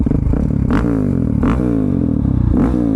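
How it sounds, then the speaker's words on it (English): A loud single-cylinder motorcycle engine with a Lithium aftermarket exhaust thumps at close range with a choppy, pulsing beat, giving three sharp rev bursts spaced evenly apart. "I love that single cylinder sound, man, especially with an enhanced exhaust like this LITHIUM exhaust on here"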